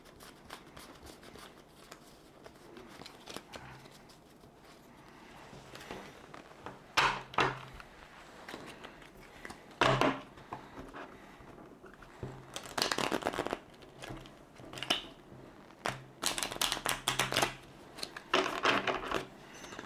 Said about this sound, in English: I should probably give these a shuffle